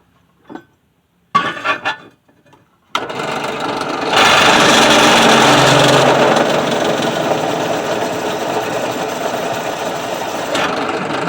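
A power drill bores into metal while fabricating shackle extension blocks for a 1965 Dodge Dart; after a few short clanks the drill runs loud and steady for about eight seconds close by, with no talking.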